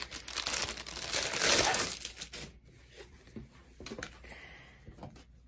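A package of DMC cross-stitch fabric is unwrapped, making close, loud plastic crinkling that peaks early and then trails off into scattered softer rustles and crackles, with no speech.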